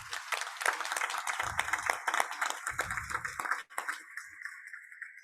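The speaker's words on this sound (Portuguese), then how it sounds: "aqui eu já peço de largada uma salva de palmas ao casal Orlando e Carla Morando" A conference audience at a development forum applauds a couple: dense, steady clapping from many hands that carries for a few seconds, then stops abruptly and leaves a quieter room.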